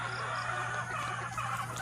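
Chickens on a backyard poultry farm cluck faintly and steadily under a constant low electrical hum, with no talking.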